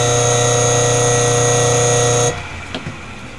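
An electric motor, model BTN56RC17F1M, runs clockwise with a steady loud tonal hum and whine, then switches off abruptly and winds down, leaving quiet with a couple of faint clicks.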